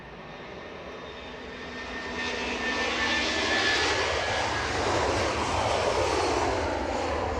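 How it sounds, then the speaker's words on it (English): A jet airliner departs Edinburgh Airport for Newark with a broad, loud engine roar. It swells over the first few seconds, then holds a steady, close-sounding rush without speech. "So off to New York, Newark, the second departure there of the show."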